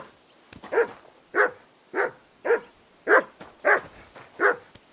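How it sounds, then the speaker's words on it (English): A dog in the medieval video game Kingdom Come: Deliverance 2 barks about eight times in a steady, evenly spaced rhythm, close and clear, with no talk over it. "Call off that damn dog before he wolfs down the last of our mates."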